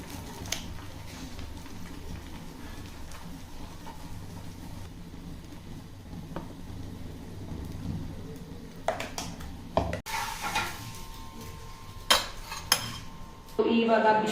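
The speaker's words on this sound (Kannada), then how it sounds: "ನಾನಿಲ್ಲಿ ಆಮ್ಲೆಟ್ ಕೂಡ ಮಾಡ್ಕೊತಾ ಇದ್ದೀನಿ" Omelette being made in a home kitchen alongside spicy noodles: utensils clink and scrape against a pan and dishes, a low steady cooking hiss underneath, with louder sharp knocks and clatters toward the end.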